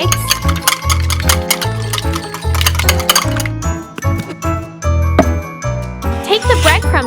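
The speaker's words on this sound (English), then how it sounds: "Beating eggs." Eggs beaten in a small miniature tray make quick, bright clinking and tinkling taps of a utensil against the tray, with background music playing throughout.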